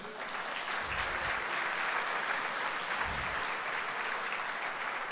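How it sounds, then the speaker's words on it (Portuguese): A congregation applauds during a Sunday church service: steady, dense clapping from many people fills the room without pause, with a couple of soft low thumps underneath. "Vamos dar um aplauso a Jesus?"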